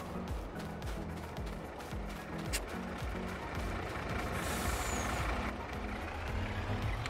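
A truck in Farming Simulator 22 pulls away with a steady low engine drone and rhythmic mechanical pulsing, plus a brief hiss, continuous and fairly close.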